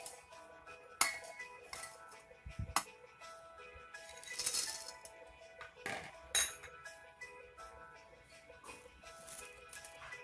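Chopped coconut pieces, peanuts, cumin, mustard seeds, salt, chillies and curry leaves are dropped into a grinder jar for dosa chutney, making scattered close clinks and light rattles against the container.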